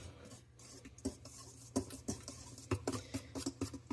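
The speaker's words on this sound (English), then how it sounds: "And we're going to whisk it together." A whisk stirs dry biscuit ingredients in a bowl, making faint, quiet scraping and tapping strokes in an irregular rhythm, with brief clicks against the bowl.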